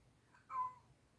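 A single short meow from Charlie, an old pet cat, close by and fairly soft, rising briefly in the middle of an otherwise quiet room.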